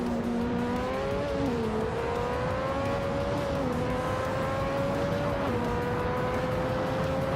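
Race cars in a racing video game, a continuous loud engine drone whose pitch climbs and shifts as gears change, with overlapping engine tones from several cars and no speech.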